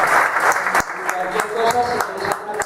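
Audience clapping at the end of a welding class, a burst of applause that thins into scattered individual claps, with people talking over it.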